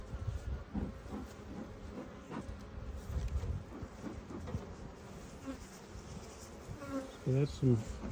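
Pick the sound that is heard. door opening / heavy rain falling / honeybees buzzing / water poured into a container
honeybees buzzing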